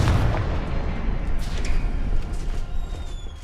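Confringo blasting spell in the game Witch Simulator 2023, a loud booming explosion that hits at once and then rolls off into a rumbling decay with scattered crackles.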